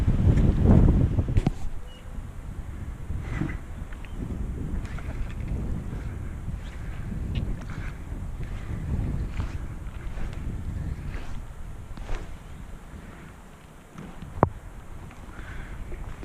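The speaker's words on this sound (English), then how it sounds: "Wow, this wind." Strong summer wind at a trout fishery during a fly fishing session, a steady loud roar buffeting the microphone throughout with gusty surges and a heavier blast at the start.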